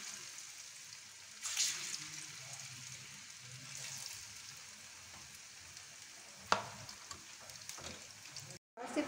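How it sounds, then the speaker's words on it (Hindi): Besan-coated vegetable pieces shallow frying in hot oil give a soft, steady sizzle throughout, with a brief louder crackle near the start and a sharp tap later on. "अब हम इसके अंदर जो हमने ये पीसेस काट के रखे थे उसको हम शैडो फ्राई कर लेंगे"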